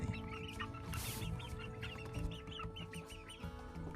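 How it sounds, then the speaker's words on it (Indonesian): Small Bangkok chicken chicks chirping in short, high peeps over a steady low background hum, with a busy, continuous scatter of calls throughout. "bagi ayam-ayam sekecil ini, bagi anak-anak ayam ini"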